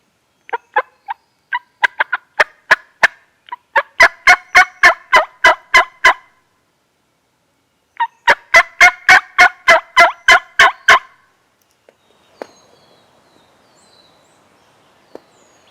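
Wild turkeys in Maryland hardwoods give a few clucks and then two rapid, loud, rattling gobble sequences in clear succession, followed by near silence.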